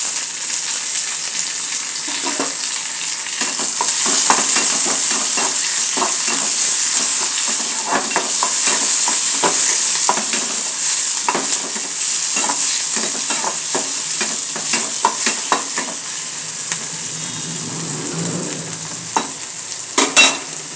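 Chopped tomatoes sizzle steadily in a hot pan during upma cooking, with a loud constant hiss and repeated scraping strokes of a spoon stirring close by.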